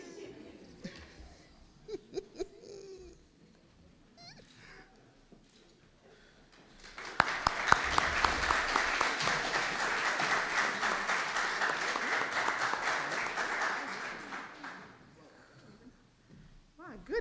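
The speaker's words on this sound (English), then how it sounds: "so we applauded the whole time" An audience applauds at a 2022 Tri-Alpha honor society induction ceremony, a dense, steady clapping that starts abruptly after quiet murmuring and keeps going for about seven seconds before tapering off.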